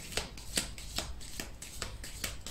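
Oracle cards being shuffled by hand during a Cancer tarot-style reading, giving a steady series of crisp riffling bursts about twice a second, close and moderately loud with no talking.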